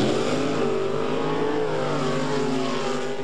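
Drag racing cars roar at a 1970s New Zealand drag strip, a dense, continuous engine blare with shifting pitch that stays loud and steady throughout, with no voices.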